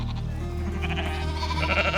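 A flock of sheep bleats as it is gathered into a paddock on a farm, with overlapping calls over a continuous low rumble.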